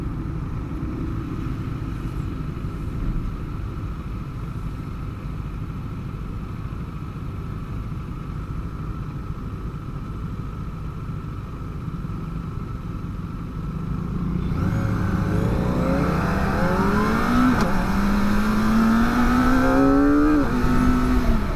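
A Kawasaki ZX25R motorcycle's engine hums low and steady at first, then revs up loudly with a sharply rising, high-pitched wail from the small inline-four, heard close with no talking.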